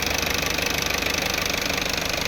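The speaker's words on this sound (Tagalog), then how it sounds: "Sabi ng mga mekaniko, pag may tumalsik daw dyan sa dipstick, sira na makina." A car engine idles steadily while the oil dipstick is being checked, giving a continuous, even mechanical hum with a faint rhythmic ticking throughout and no voices.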